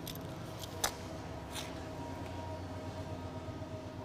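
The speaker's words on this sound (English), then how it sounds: "Oh, that sounds like a locomotive coming." A locomotive-hauled train rolls by at a distance, a steady low rumble with faint metallic clanks and squeals, heard on its own and fairly quiet throughout.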